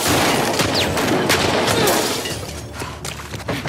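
Gunfire in The Last of Us Part II, a dense burst of loud shots and cracks with debris, fading slightly toward the end, no talk over it.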